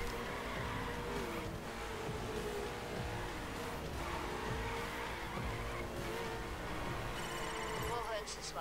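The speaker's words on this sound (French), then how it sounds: "Elle vaut largement une mode circuit puisque c'est une Koenigsegg. Une Koenigsegg, c'est très très rapide." A Koenigsegg hypercar races in the video game The Crew, its engine droning continuously with tire squeal and skidding, while someone talks over the game sound throughout.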